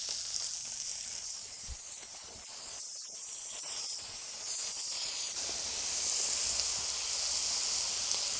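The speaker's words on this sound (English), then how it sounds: "Maybe it's sizzling a little bit," Food sizzles on a Blackstone flat-top griddle with a steady, fairly soft broadband hiss that swells slightly toward the end, with no voices over it.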